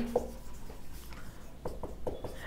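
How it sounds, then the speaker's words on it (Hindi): Chalk or pen writing lines on a classroom board, faint scratchy strokes and taps at an irregular pace, quiet and close with low room noise and no clear talk. "चलिए 2 लाइन लिख लेते हैं"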